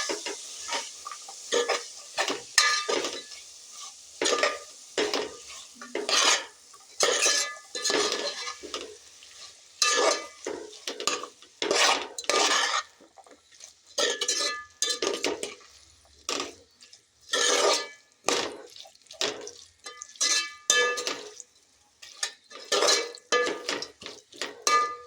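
A spoon or ladle stirs vegetable biryani in a metal pot, producing repeated scraping, clinking strokes in an uneven rhythm, close and moderately loud, with brief quiet gaps between strokes.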